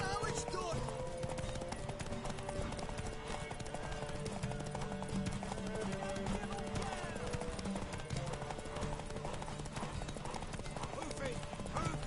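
In the video game Witcher 3, a horse's hooves clip-clop in a rapid, steady rhythm throughout, mixed with character voices and other game sounds.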